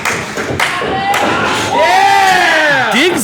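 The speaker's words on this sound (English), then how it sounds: "The crowd loves it." Loud wrestling arena crowd roaring and cheering steadily, with rising whoops and thuds from the ring, while a commentator talks over the noise.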